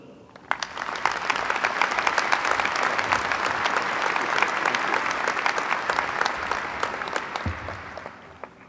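A commencement audience at the Cockrell School of Engineering applauds to welcome speaker Milton Lee, steady dense clapping that swells quickly and holds for several seconds before tapering off.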